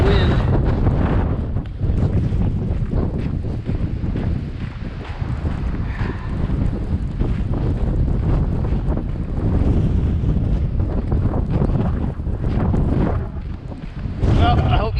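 Strong blizzard wind in Regina, Saskatchewan buffets the microphone with a loud, continuous low roar and gusting rumble throughout, with no clear speech over it.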